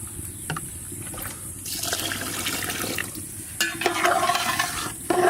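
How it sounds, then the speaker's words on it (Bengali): Water poured into a rice pot for village-style chicken and pea pulao, a steady splashing, gurgling flow close by that grows fuller and louder toward the end, with no talking. "এখন মেজারমেন্ট মাপে জল দিয়ে দেবো।"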